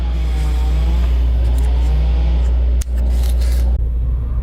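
A cold 2018 Subaru WRX with aftermarket exhaust idles steadily, a deep, throaty low rumble, loud and close, holding even throughout with a brief dip near the end.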